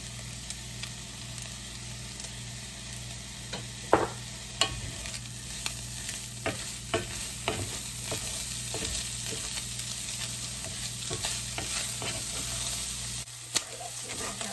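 Ground meat browning in a skillet with onions, garlic, salt and pepper for shepherd's pie, a steady close sizzle with scattered sharp pops and crackles of spattering fat throughout.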